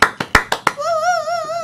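Five sharp, evenly spaced handclaps ring out in a radio studio for a guest, then give way to a sustained wavering musical tone.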